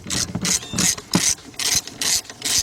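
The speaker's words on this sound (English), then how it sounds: "I'm going to go ahead, tighten up that bolt." A 3/8-drive ratchet with a 2-foot extension and deep 7/16 socket tightens a steering gear box bolt on a 1977 Buick LeSabre. Close, crisp bursts of rapid pawl clicks come in quick repeated strokes with short pauses between them.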